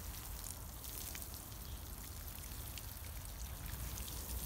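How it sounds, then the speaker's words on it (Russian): Pesticide solution being watered over a garden against beetles, a steady spattering of drops on leaves and soil, close and continuous, with no talk. "Так, поливаем."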